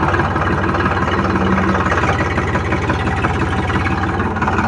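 An Eicher 551 tractor's diesel engine, a 2024 model, chugs steadily at idle, a low rumbling drone with a regular pulsing rhythm, close and fairly loud throughout.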